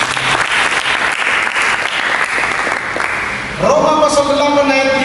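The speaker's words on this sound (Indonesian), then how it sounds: "Mari kita berikan tepuk tangan bagi" Loud, sustained clapping from a large church congregation, then the applause gives way to a bright instrumental or sung tone near the end.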